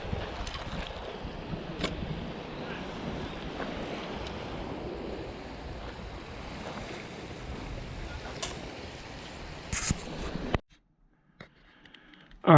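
Steady wind roars and buffets outdoors, rough and continuous, then cuts off abruptly into near silence.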